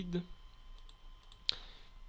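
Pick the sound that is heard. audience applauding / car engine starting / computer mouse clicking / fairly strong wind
computer mouse clicking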